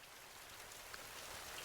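Heavy, steady rain in an animated story, a dense even hiss of falling water throughout with no other sounds.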